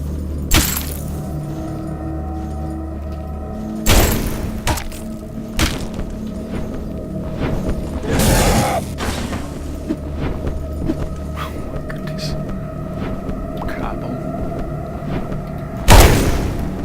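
Frost bombs burst in the Logii video game as several sharp booms and thuds spaced irregularly over a low background hum, with one larger cracking impact near the end.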